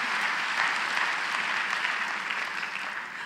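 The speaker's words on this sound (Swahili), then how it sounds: "Pigeni makofi mkalimani wangu." Church audience clapping for the interpreter at a sermon, a dense sustained round of applause from many hands, steady and fairly loud throughout.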